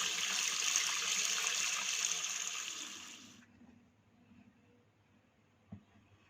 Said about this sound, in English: I'm now going to run them under cold water to cool them off